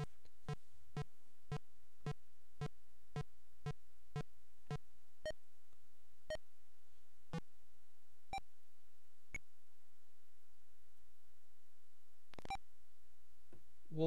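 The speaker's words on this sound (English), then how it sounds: "Well, why is the computer beeping?" Computer beeps in the Michael Crichton adventure game Amazon: a fast, even run of sharp electronic beeps that gradually slows and spaces out, then a couple of isolated late beeps, clear and alone.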